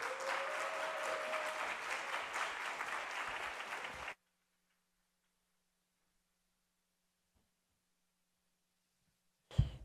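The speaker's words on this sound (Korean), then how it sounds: "우리 박수로 모시겠습니다" A church congregation applauds steadily for about four seconds, welcoming a speaker, then the clapping stops abruptly into near silence, followed by a brief clatter at the end.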